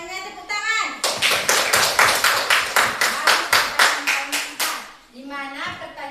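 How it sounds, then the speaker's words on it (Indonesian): A group of children claps together in a steady, rhythmic unison beat of about a dozen sharp claps, led in a classroom Islamic lesson, with young voices talking briefly before and after. "Tepuk tangan."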